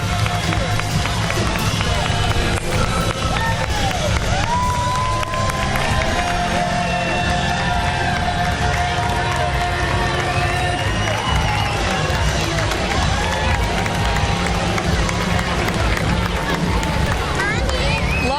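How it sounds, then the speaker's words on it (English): A large crowd at the Texas Cavaliers River Parade cheers and applauds servicemen and women in a standing ovation, a dense, continuous roar of clapping and shouting with voices mixed throughout. "To see the crowd give our servicemen and women a standing ovation"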